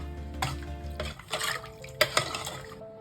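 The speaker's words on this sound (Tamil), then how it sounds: "நல்லா சேர்த்து கலந்து விட்டுக்கலாம்." Ladle stirring mutton soup seasoned with pepper powder and a little sesame oil in a pot, soft liquid swishes with a couple of sharp clinks against the vessel, close and without speech.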